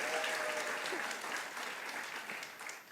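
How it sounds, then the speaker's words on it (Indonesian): Sustained applause fills a church worship service in Batam, dense steady clapping from a congregation lasting the whole moment, with a faint voice briefly over it. "Beri tepuk tangan yang luar biasa."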